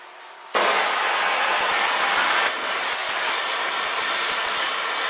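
Loud, steady roaring hiss of a torch flame heating a hardened steel mower deck hanger, starting abruptly after a brief quiet moment and continuing unbroken, up close.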